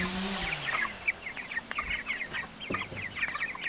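Meat chickens on a homestead pasture by the front lawn cluck in short, repeated near calls, several birds overlapping against a quiet outdoor background.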